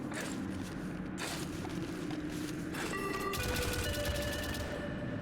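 Turret gunfire in the video game White Knuckle, a steady dense burst of rapid shots running throughout with metallic ringing tones joining partway, close and fairly loud.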